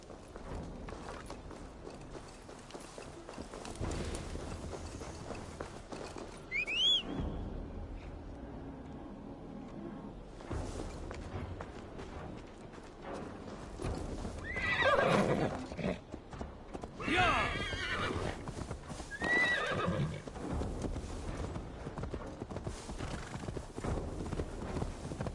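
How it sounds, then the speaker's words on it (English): Horse hooves clip-clop through a video game set in Viking-age England, Assassin's Creed Valhalla, with a few neighs and whinnies rising over the steady footfalls and ambient game sound. "Now to deliver Magni his horse."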